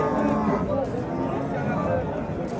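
A cow, one that has calved five or six times, gives a long, low moo close by at a livestock market, droning steadily through the whole stretch.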